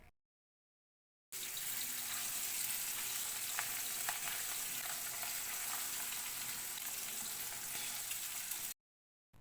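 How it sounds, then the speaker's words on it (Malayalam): Sardines fry in coconut oil in an iron pan, a faint but steady crackling sizzle that starts abruptly, continues evenly for about seven seconds and cuts off, with silence on either side. "ആദ്യം തന്നെ മത്തി ഓരോന്നായിട്ട് വെച്ച് കൊടുത്തിട്ടൊന്ന് വറുത്തെടുക്കാം"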